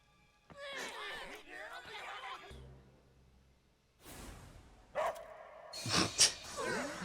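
A voice imitates a dog, performed by an anime character from Delicious in Dungeon: a few short, close barking and whimpering yelps broken by pauses and breathy sighs.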